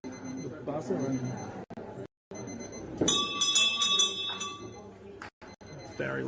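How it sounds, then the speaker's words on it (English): A loud electronic buzzer sounds in a large hall at an indoor bowls singles championship, a harsh ringing tone cutting through crowd noise and a commentator's voice. "We hear the buzzer"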